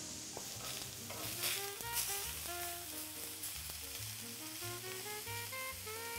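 Beef tenderloin steaks sizzle in a frying pan in a steady, moderate crackle, with music playing over the cooking sound throughout and no talking.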